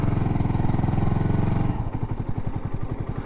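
Yamaha YZF R125 motorcycle engine running close by, a loud steady pulsing thrum that drops into a slower, lumpier idle-like beat partway through.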